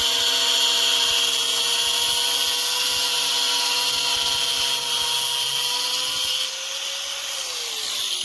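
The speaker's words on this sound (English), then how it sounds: "I'm going to get that angle grinder and cut that" An angle grinder cuts through the metal of a DIY short throw shifter for a Subaru Legacy, a loud, steady high-pitched whine that holds for several seconds before the pitch drops slightly as the load changes near the end.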